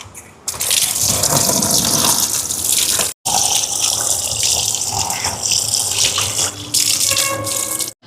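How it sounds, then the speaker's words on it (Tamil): Water gushes loudly and steadily from a tap as banana leaves are washed beneath it, with one brief break in the flow partway through and no speech. "நாங்கள் வாழையிலேயே கழுவி எடுப்போம்"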